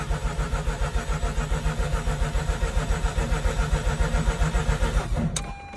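A 2004 Mazda RX-8 track car, being diagnosed for idle issues, runs after starting, with a loud steady pulsing engine note that continues evenly before an abrupt change near the end.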